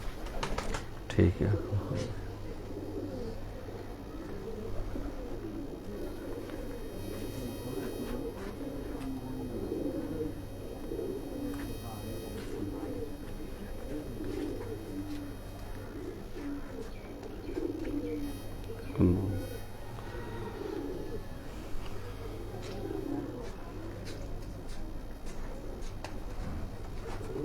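Rooftop pigeons coo in a dense, continuous murmur throughout, moderately close, with a couple of sharp knocks and someone talking briefly over it.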